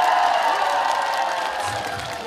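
A crowd at a market show claps and cheers for a trot singer, a sustained blend of applause and whoops that holds steady and loud, with a low thump near the end.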